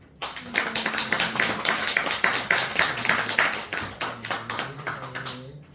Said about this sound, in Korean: 우리 한영에 박수 합시다.